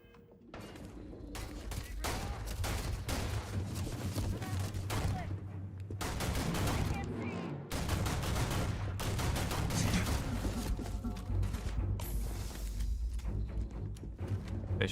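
Enemy gunfire rattles through a shooter game, dense volleys of automatic shots rolling on for several seconds with brief lulls, loud and close, with scattered thuds mixed in.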